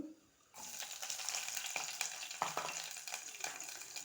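Cumin seeds and green chillies hit hot oil and burst into a bright crackling sizzle that holds steady and close, with a couple of brief stirring knocks.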